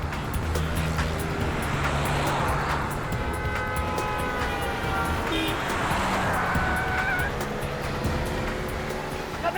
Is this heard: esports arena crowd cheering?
no